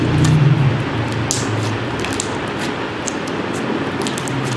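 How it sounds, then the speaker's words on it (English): Clear slime being squeezed while air bubbles pop in it, giving small, close, wet squishes and soft clicks scattered over a steady handling noise, with no talk. "I'm gonna pop some bubbles."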